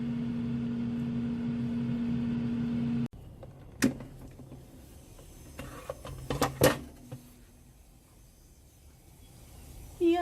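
An air fryer roasting cashews runs with a steady drone that cuts off abruptly, followed by scattered clicks, clatters and handling noises nearby.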